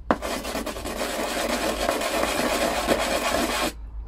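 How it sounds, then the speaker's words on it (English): A glass bottleneck slide is rubbed in circles on oxide sandpaper laid on a workbench, making a continuous close, loud gritty rasp that stops abruptly near the end, with no voice. "just place the oxide paper on the bench and just rub the bottleneck in circular motion on the top"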